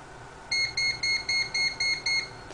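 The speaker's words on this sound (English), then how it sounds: "you will hear a series of beeps, 1 through 8." A handheld device on the AirWolf gives a series of seven evenly spaced, loud electronic beeps, each a short steady tone with a brief gap, over faint background hiss and no talk.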